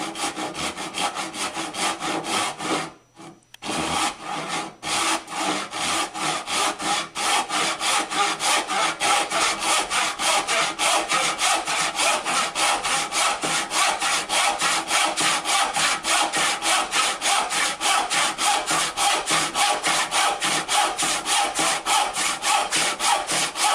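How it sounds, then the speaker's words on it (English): A hand saw cuts wood end grain to make shop wedges, with steady rhythmic back-and-forth strokes, close and loud, a brief pause near the start and then uninterrupted rasping sawing for the remainder. "Then it's just a matter of sawing out to your lines."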